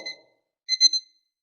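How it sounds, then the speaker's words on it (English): A short electronic alarm beep, a high tonal chirp followed by a louder double beep, in an otherwise quiet room. "alarm just trying to tell me I need to switch gears."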